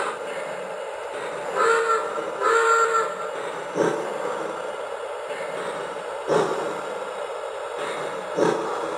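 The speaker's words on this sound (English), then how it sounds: "You can see the top of the steam engine approaching." A Z scale model steam train runs along a layout in a train room, giving a soft continuous rolling rumble with several brief whistle-like chirps spaced through the run.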